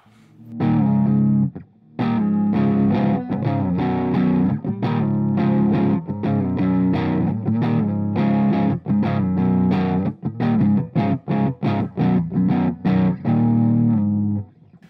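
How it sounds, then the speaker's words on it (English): A distorted electric guitar plays a chugging riff, loud and close, with brief pauses and choppy stops as the crunch drops in and out. "you can hear the distortion come in and out"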